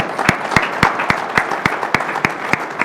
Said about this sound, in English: could we all give our panelists today one big round of applause?